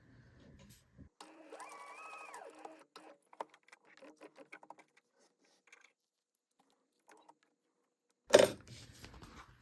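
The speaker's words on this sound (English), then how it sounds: "We're just going to stitch straight across the bottom." A sewing machine stitches straight across the bottom of a card slot on a raw-edge wallet: a short, faint motor whine rising and settling, scattered light mechanical clicks, then one sharp loud clack near the end.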